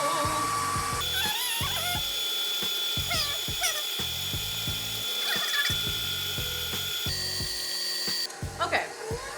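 An electric mixer whirs as it creams butter and sugar for a lemon cake, a steady motor hum with changing speed and frequent clicks of the beaters against the bowl, and a voice talks over it.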